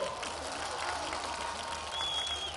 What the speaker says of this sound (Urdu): تالیاں بجاؤ اس بات پہ زور سے